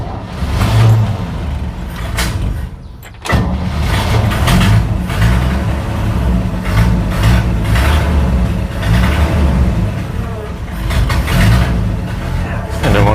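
The engine of a 1965 Chevrolet C10 truck that sat in a field for decades, running loud and close with a rough, uneven low rumble, dipping briefly before picking back up, while people talk over it.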